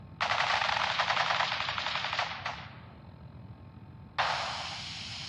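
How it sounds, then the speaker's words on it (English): Fallout 4 video game gunfire: a long, loud burst of rapid machine-gun shots that trails off into a ringing tail, followed after a short pause by a second sharp burst starting up. "Men, open fire"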